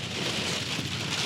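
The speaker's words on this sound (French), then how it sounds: "on était prêt à partir et c'est la grosse averse de grêle" Heavy hail shower pounding down during a road trip in the Lofoten islands, Norway, a dense, steady roar of hard drops hitting surfaces, loud and continuous without pause.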